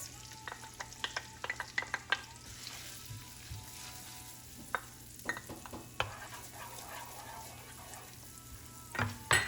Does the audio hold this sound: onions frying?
yes